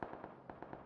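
A short burst of rapid gunfire in the PUBG battle royale game, several quick sharp reports at a moderate distance.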